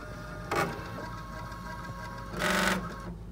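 A Viking Brilliance 80 embroidery machine calibrating its embroidery arm: a steady low mechanical hum broken by two short, louder bursts of motorized whirring as the arm moves.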